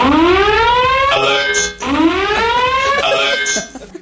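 A loud rising siren wail sweeps upward twice in succession, each rise ending in a harsh burst, close and dominant.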